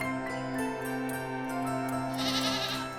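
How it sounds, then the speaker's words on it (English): A goat on a farm bleats in a long wavering call, loud and near over a steady tonal musical background, with no talk. "The goat ran happily to the farmer."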